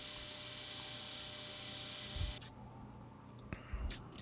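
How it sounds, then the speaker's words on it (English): A power sander works the inside of bushcraft knife scales, a steady high whirring hiss that runs for a couple of seconds, then cuts off, leaving a quiet room with a few faint knocks. "now I'm starting to sand the inside of the scales"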